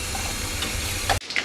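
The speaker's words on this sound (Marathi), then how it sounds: "राई तडतडली की जिरं," Mustard seeds crackle and sizzle in hot oil in a wok, a dense continuous hiss with scattered pops that cuts off abruptly near the end, leaving a quieter sizzle.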